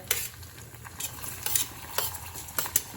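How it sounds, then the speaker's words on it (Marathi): Chopped onion goes into hot oil for sprouted masoor usal, giving a soft steady sizzle broken by repeated scraping stirs and light clinks of a spoon against the pan, close and fairly quiet. "ह्याच्यामध्ये तेल तापलेले ह्याच्यामध्ये आपण कांदा घालूया"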